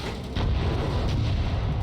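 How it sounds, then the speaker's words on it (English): A building explodes in the online multiplayer video game Crossfire Legion, producing a loud, sustained rumbling blast that swells after a brief onset and continues roaring without a break. "Let's see this building go and explode."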